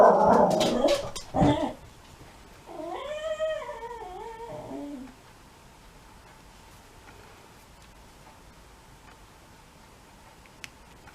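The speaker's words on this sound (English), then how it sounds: "an awful whimpery wee puppy" A young puppy whimpers and whines in rising, wavering cries after a few sharp yelps, fairly close, then trailing into quiet room tone; no speech.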